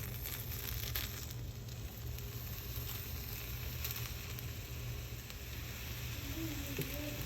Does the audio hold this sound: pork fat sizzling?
yes